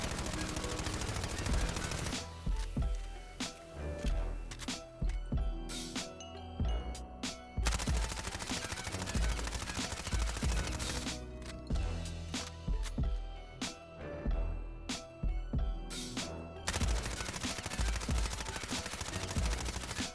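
Sustained bursts of MP5 submachine gun fire in Call of Duty Warzone, loud rapid automatic volleys separated by brief pauses, repeating across the whole stretch with no talking.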